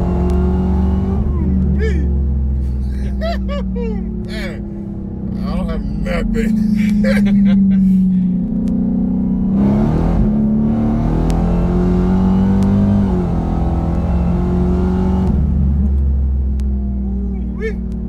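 A Dodge Charger's engine rumbles and revs during a ride, loud and close, with engine pitch rising and falling repeatedly while people talk over it.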